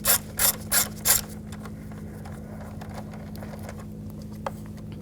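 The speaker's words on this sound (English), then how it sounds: "Using a 5mm hex socket, I'm going to take this screw, loosen this up." A 5mm hex socket ratchet clicks in four quick, sharp bursts while loosening a screw on a 2011-2018 Volkswagen Jetta, followed by faint soft taps and handling noises over a low steady hum.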